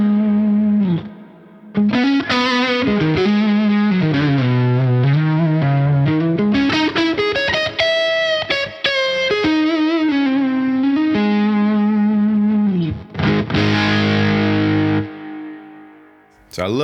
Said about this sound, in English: Now I've got this set to like a plate, long plate.